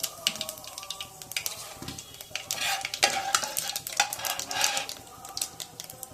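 Cumin seeds fry in a pan alongside cardamom while a spoon stirs and scrapes, giving a busy sizzle with repeated metallic clicks and scraping strokes.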